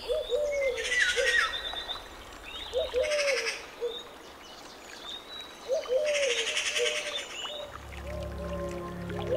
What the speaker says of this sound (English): The white-throated kingfishers become particularly noisy on the onset of breeding season. Their loud calls advertise their presence over long distances.